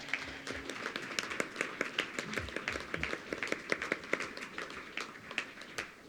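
Brief round of applause from a seated audience at a school board meeting honoring students, a dense patter of many hands clapping at moderate distance, fairly quiet and steady throughout.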